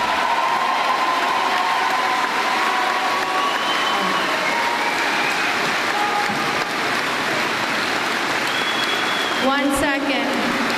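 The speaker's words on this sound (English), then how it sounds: "Ladies and gentlemen, a round of applause for these young men and women." A large audience at a high school graduation ceremony applauds steadily, a dense wash of clapping with some cheering and a few whistles, sustained and fairly loud throughout.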